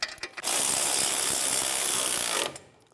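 A ratchet tightens the brake caliper bracket bolts on a 2011-2019 Ford Explorer, a loud, steady, close-up whirring buzz lasting about two seconds after a few quick clicks.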